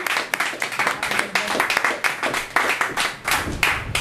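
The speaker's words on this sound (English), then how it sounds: "Please give her a welcome and a round of applause." An audience at a poetry reading in an art gallery claps for a poet taking the stage, dense and steady applause from a room full of hands filling the whole moment.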